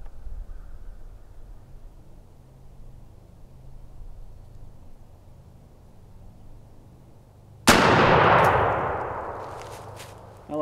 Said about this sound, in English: So I'm gonna shoot a TSS number 9